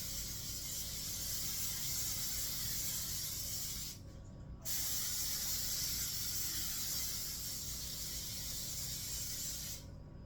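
A continuous aerosol spray of non-stick cooking oil onto a hot cooking surface hisses for several seconds, pauses briefly, then resumes in a steady loud burst before cutting off near the end.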